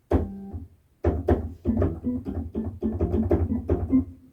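Short, plucky synth notes in a quick melody, beeping like a string of phone keypad tones, played alone after a brief pause.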